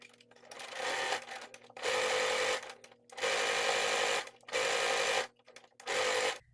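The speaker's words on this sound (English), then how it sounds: "now we're gonna go over and we're gonna sew this" A sewing machine stitches fabric for an unsponge, five loud mechanical bursts of rapid stitching separated by short quiet pauses, close and alone.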